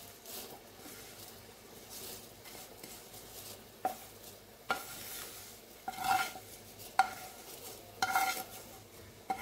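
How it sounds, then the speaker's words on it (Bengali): Fried vermicelli and cashews are stirred into boiling milk in a pot for a semui dessert, with soft scraping, clinks of a utensil against the pan and a faint bubbling bed underneath, no talking. "ফুটন্ত দুধের মধ্যে এবারে ভেজে রাখা সিমুই আর কাজু বাদামগুলো দিয়ে দিচ্ছি।"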